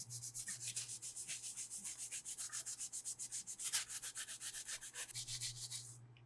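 A sanding pad is rubbed rhythmically back and forth over an acrylic surface, producing quiet, even scratchy strokes in a steady repeating pattern for several seconds, heard alone.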